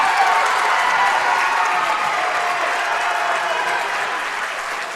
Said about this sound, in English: a really good ovation by the Highlander crowd here